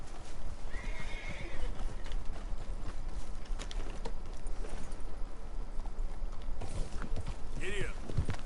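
Horse in Red Dead Redemption 2 whinnying and clip-clopping at a run, with hoofbeats and a neigh over steady game ambience and music, fairly close and loud throughout.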